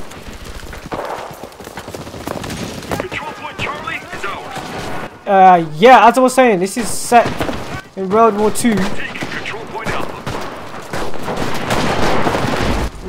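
Gunfire from the World War II shooter game Enlisted crackles throughout, with sharp bursts and scattered shots beneath someone speaking loudly over the battle noise.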